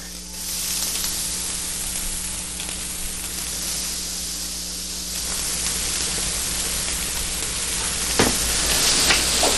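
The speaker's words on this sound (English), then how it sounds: "I'm just gonna sprinkle it over a hot pan" A steady, hissing sizzle from grated Parmesan frying in a hot pan, with no talking, growing slightly louder toward the end.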